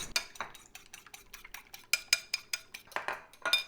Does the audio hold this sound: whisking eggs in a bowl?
yes